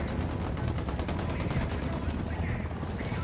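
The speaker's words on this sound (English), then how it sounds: "Open fire." Continuous rapid gunfire in the tactical shooter game Ghost Recon Wildlands, a dense rattling fusillade that runs the whole time under a noisy battle backdrop.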